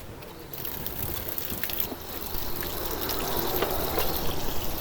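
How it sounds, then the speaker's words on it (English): Water runs and splashes over an aluminium licence plate from a Land Rover 109 as acid is rinsed off, a steady close gush that grows slightly louder, no speech. "So now I'm going to wash the acid off the number plate."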